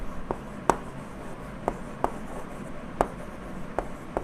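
Hand writing sentences with a pen on paper, a quiet scratchy rubbing with several sharp taps from the pen tip in irregular rhythm, close and faint, no speech.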